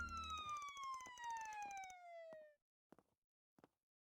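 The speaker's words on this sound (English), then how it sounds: "Oh, we got sirens." A police siren from the video game Trails Through Daybreak wails in a single falling sweep lasting a couple of seconds, then cuts off, followed by a few faint, sparse clicks in near silence.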